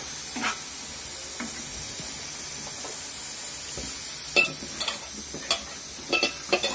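Boiled prawns being stirred in a pan with a soft, steady sizzle of frying, broken by a few scraping stirs of a utensil near the end. No one speaks.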